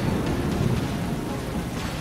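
Rain pouring in a cartoon kalbaishakhi storm, a steady, dense hiss of heavy rainfall with a low rumbling undertone, loud and continuous throughout without any voices.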